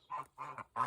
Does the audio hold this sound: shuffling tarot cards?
no